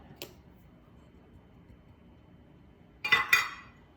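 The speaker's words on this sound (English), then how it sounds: "I'm just going to take my dry ingredients that are going to go together, and I'm just going to set them into the bowl" A brief cluster of light clinks and taps as dry ingredients for peanut butter cookies go into a mixing bowl, preceded by a faint early tick in an otherwise quiet kitchen.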